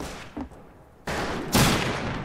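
Gunfire in the Western shooter game Fistful of Frags: a short distant pop, then two sharp, loud shots in quick succession, each followed by a ringing, echoing tail.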